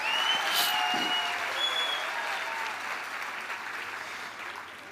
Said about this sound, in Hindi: एक बार जोरदार ताली बजा के उनको स्वागत करो